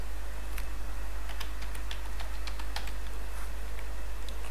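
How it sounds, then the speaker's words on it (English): Keys clatter in an irregular, fairly quick burst as a password is typed on a computer keyboard, soft close clicks over a steady low hum with no talking. "Now we will enter the password"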